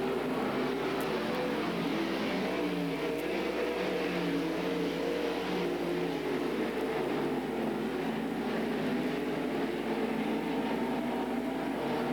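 360 sprint cars racing at Skagit Speedway, their engines forming a steady, loud, continuous roar with no voices over it.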